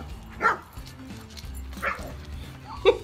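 A dog yelps and whimpers in short bursts, three brief cries spaced across a few seconds over a low background rumble.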